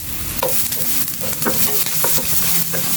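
Garlic browns in a hot pan for ampalaya with egg, giving a loud, busy sizzle punctuated by repeated spatula scrapes and taps against the pan, close up with no voices.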